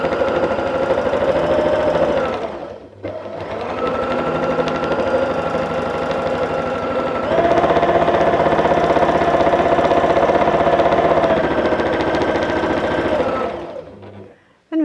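A domestic sewing machine stitching free-motion quilted feather motifs runs in steady, fast bursts with a brief pause near the start, a close and continuous mechanical hum with rapid needle rhythm.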